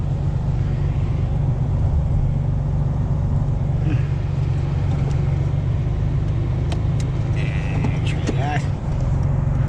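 A cold truck engine drives along a snowy winter road, a steady, loud low rumble that holds throughout with faint higher noises drifting in over it.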